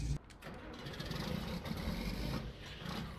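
A vintage 1970s-style tractor engine idles in Farming Simulator 19, with a steady low rumble and a faint mechanical chatter, fairly quiet and continuous.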